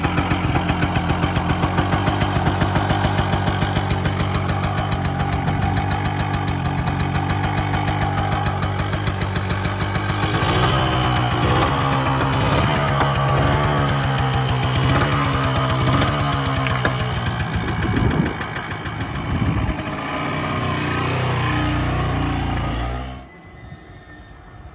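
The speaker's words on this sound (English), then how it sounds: "It's a single cylinder, twin port, lovely smooth ride, but it is a two-stroke." A 1990 Suzuki K125 single-cylinder, twin-port two-stroke motorcycle engine runs steadily and loud and close, its buzzing idle climbing into revs midway before cutting off near the end.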